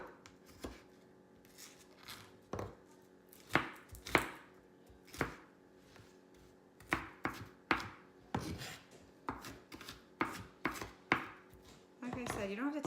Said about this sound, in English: you don't have to take this extra step of chopping. I just like my bell pepper really small.